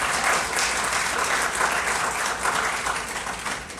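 Crowd applause at a groundbreaking ceremony for a new Martin Luther King library, a loud, dense burst of many people clapping together that holds steady and then starts to taper.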